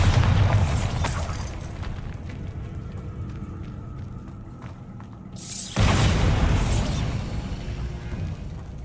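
Bombarda spell blasts in Hogwarts Legacy: a loud booming explosion at the start with rumbling debris that fades, then a second sharp, close blast around midway followed by crackling aftermath. No talking.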